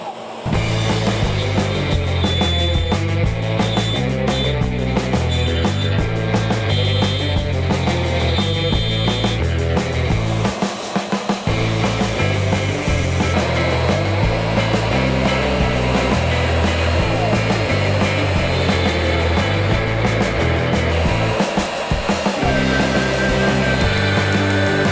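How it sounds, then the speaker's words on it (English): A CNC router with a spiral bit machines a solid wood electric guitar body, producing a loud, steady whine and grinding roar that holds on continuously and close up. "That's all of the CNC machining that we're going to be doing on the body."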